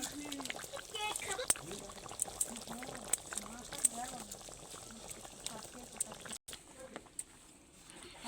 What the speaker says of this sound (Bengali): বেশ কয়েক মিনিট ঝোলটা ভালোভাবে ফুটে গেছে